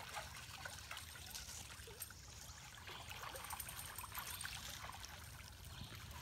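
Shallow creek water trickles over rocks at a crossing in Alabama's Sipsey Wilderness, a faint, continuous babble with no voices.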